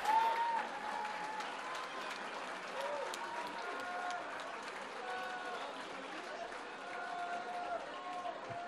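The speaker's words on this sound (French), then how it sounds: "On peut les applaudir encore." Audience applauding graduates at a 2016 diploma ceremony, dense sustained clapping across the whole stretch with a steady crowd roar and a few voices mixed in.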